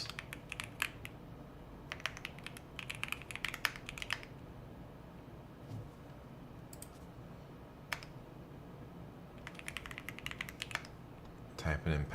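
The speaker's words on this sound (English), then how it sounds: "Typing in passwords and stuff." Passwords are typed on a computer keyboard in quick bursts of close, crisp key clicks, with pauses between clusters and a few isolated taps, all fairly quiet.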